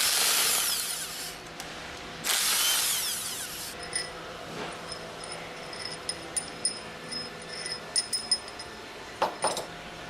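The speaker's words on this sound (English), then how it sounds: "Use the impact wrench with a 10mm hex drive attached" A power impact wrench fitted with a 10mm hex drive runs in two short, loud bursts while removing retaining bolts on a KF packing stack, followed by scattered metallic clicks and clinks of parts and tools being handled.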